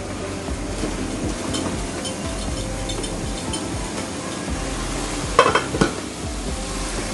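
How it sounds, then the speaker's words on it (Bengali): Pumpkin frying in a pan on one burner of a stove, with a steady sizzle throughout and a few louder scraping stirs near the end. "ওই পাশের চুলায় মিষ্টি কুমড়োটা আমি একটু নেড়ে চেড়ে দিচ্ছি।"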